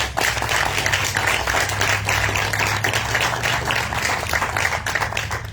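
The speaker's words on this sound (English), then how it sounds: "Let's give them a round of applause." A church congregation at a Baptist service claps in dense, sustained applause that stays loud and even from start to finish.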